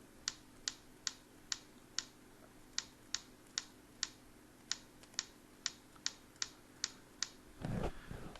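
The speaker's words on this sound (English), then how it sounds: "it will simulate the sounds of a typewriter key typing every time you click it" Sharp simulated typewriter clacks from a Bluetooth keyboard, struck one by one at an uneven, quick pace, then a brief rustling bump at the end.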